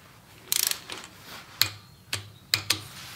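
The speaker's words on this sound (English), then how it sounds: "This gets torqued down to 144 inch pounds or 12 foot" A torque wrench clicks and ratchets while a motorcycle spark plug is tightened, giving a quick burst of rapid ticks followed by several single sharp clicks, close up and alone.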